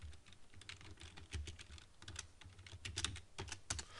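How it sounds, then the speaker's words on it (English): Fingers type on a computer keyboard in Excel, a quick, irregular run of soft key clicks, close and quiet, with no talk. "And I'll type in temperature."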